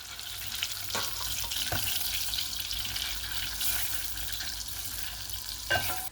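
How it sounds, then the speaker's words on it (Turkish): Tomato paste fries in melted butter in a pan with a continuous close sizzle. A few soft stirring knocks come through during the sizzle, and no one talks. "Salçamızı kavurduk."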